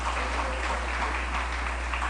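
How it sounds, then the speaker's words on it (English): An audience at a live-streamed community event claps in a steady, dense wash of applause that holds evenly throughout, with no voices over it. "Give him a round of applause"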